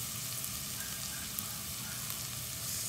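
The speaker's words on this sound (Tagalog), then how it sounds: "Haluin lang yung siyang mabuti para hindi masunog" Sautéed shrimp paste, bagoong alamang, sizzles steadily in a pan while being stirred, a constant close hiss of frying with no talk.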